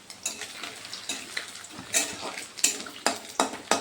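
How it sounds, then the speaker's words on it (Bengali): Grated coconut frying in oil in a wok while making khichuri, giving a steady close sizzle broken by repeated scraping and stirring strokes of a spatula against the pan. "এখন আমি দিয়ে দিচ্ছি নারকেল।"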